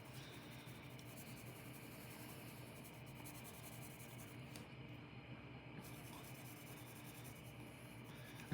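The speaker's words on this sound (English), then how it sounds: "And kind of lightly shade over so that I have that smooth transition." Graphite pencil lightly shading on paper, a faint, soft continuous scratchy rubbing close by, quiet and even throughout with a brief pause near the middle.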